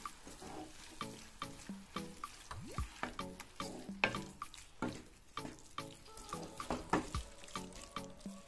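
A spatula stirs cleaned squid in a hot pan for a squid roast, giving quiet repeated scraping and clattering strokes over a low sizzle, with no one speaking.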